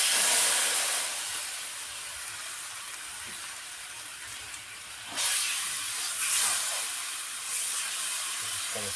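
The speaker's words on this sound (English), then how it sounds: "Just going to simmer this down a little bit." Sauce from a Birds Eye beef lo mein skillet meal simmers in a preheated pan on a stovetop, giving a steady, close sizzling hiss that swells briefly around the middle and stays continuous throughout.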